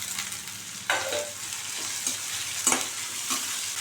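Onions and slit green chillies sauté in oil in a pan. A steady sizzle runs throughout, and a utensil scrapes and stirs in several distinct strokes. No one speaks.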